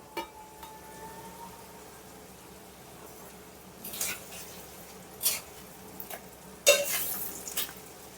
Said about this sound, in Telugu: మనకి ఎగ్స్ బాయిల్ చేసి ఉంటే 1 మినిట్లో మనం ఎగ్ ఫ్రై చేసేసుకోవచ్చు.